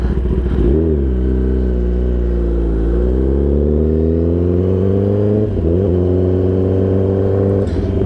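Car engine revving hard and loud, pitch climbing and dipping through a couple of throttle blips over a sustained close-up drone, with no voices.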